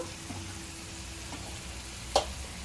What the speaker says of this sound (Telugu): ఇప్పుడైతే మనం ఇందులో వాటర్ పోసేసుకున్నాము